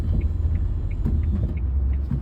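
A car engine idles with a steady low rumble up close as the driver shifts into drive, with faint ticking over the continuous hum.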